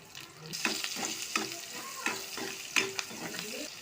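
Onion, green chilli and curry leaves sizzle in oil in a wok, with a steady frying hiss broken by repeated scraping stirs of a spoon against the pan.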